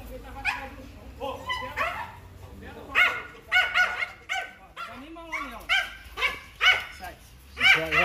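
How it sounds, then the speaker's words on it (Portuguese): A dog barks and whines in short bursts with yips and whimpers, moderately near, while people talk at intervals over it. "o cachorro tá lá chorando"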